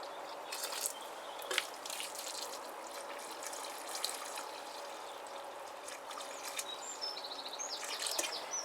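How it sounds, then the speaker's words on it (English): Water trickles and drips onto dry soil inside a growing tunnel before tomatoes are planted, soft and steady, with faint birdsong in the background. "I'm just going to give the soil underneath a good old soak."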